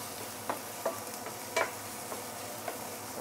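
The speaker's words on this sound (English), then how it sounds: "So always good to saute your fermented beans." Fermented black beans sauté in a hot pan with a steady close sizzle, broken by a few sharp scrapes and knocks from stirring, alone with no talk.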